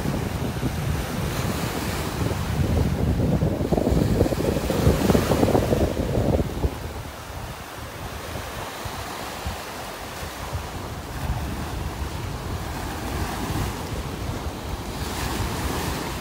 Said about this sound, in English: Really windy out here this morning.